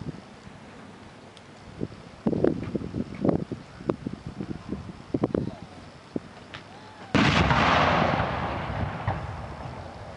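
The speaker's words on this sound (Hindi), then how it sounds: "चार्ज फायर करने की आपसे अनुमति चाहता हूँ श्रीमान" A bomb basket charge fires with a sudden loud blast that rolls on into a long, fading roar after a run of crackling pops and clicks, heard close against outdoor background noise.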